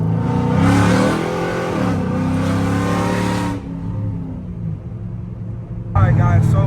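The Hemi V8 of a Chrysler 300C revs loudly from inside the car, a deep throaty rumble that rises and falls, eases off, then surges again near the end.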